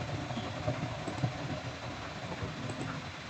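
Computer keyboard keys pressed in quick succession for a Ctrl+C copy shortcut while drawing a simple floor plan, a light, close clicking and tapping over a steady low room hum, with no talking.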